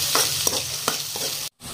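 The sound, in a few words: chopped onions stirred and frying in a pan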